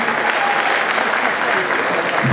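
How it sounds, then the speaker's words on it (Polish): Dense, even applause from a crowd greets young footballer Wojtuś at a presentation of the SKRZAT Orlęta Spomlek Radzyń Podlaski youth team, sustained and fairly loud throughout. "Wielkie brawa dla Wojtusia."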